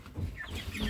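Faverolles chickens just caught on a farm give a short burst of clucking, close and moderately loud, with no talk.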